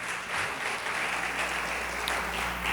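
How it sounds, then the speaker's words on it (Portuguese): Church congregation applauding, a steady dense wash of clapping from many hands that lasts the whole stretch with no speech. "Você pode aplaudir o Senhor por esse texto?"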